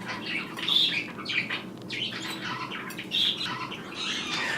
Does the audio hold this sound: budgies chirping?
yes